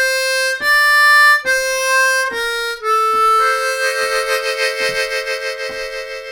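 A slow blues phrase played on a Bb harmonica: several separate held reedy notes, then a fuller sustained chord that pulses rhythmically, close and unaccompanied.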